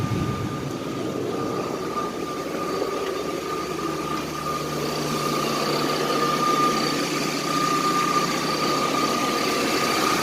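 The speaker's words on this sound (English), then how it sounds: "Idling at like 500 RPM." A 1993 Chevy S10 with a 4.3 engine and a newly replaced alternator idles low at around 500 RPM, a steady, fairly quiet rumble with a faint whine running evenly throughout.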